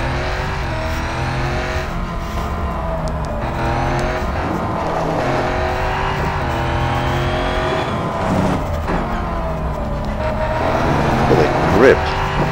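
Corvette C7.R race car engine in the Real Racing 3 video game, heard from the hood view as a steady, loud sustained drone with rising and falling pitch through gear changes near the finish line, with tire squeal moments.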